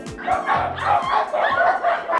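Several dogs bark and yip in quick bursts while playing in a pool under a splashing fountain, loud and close, with voices mixed in.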